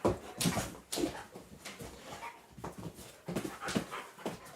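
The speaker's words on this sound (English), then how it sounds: "I will have to send my dog away now" A dog pants in quick rhythmic breaths close by, with faint whimpers mixed in, in an indoor room during a live football watch-along.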